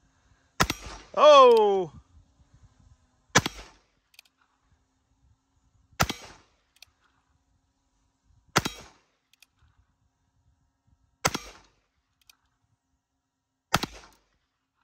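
Five sharp single shots from a Wrangler .22 Magnum rifle fired at a steel plate, spaced about two to three seconds apart in near silence, with a brief exclamation from a voice after the first shot.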